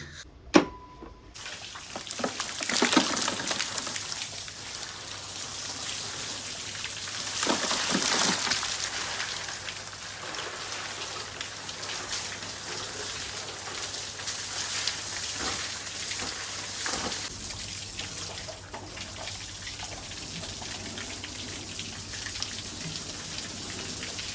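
A hose pipe sprays water onto new plaster in a house under construction, giving a steady hiss of spray and splashing with patter on the surfaces, close and continuous.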